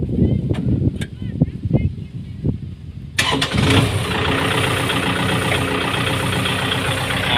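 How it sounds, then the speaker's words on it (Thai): A farm tractor engine cranks with a few sputtering turns, then catches and settles into a loud, steady rumbling idle close by. "เราลองติดเครื่อง"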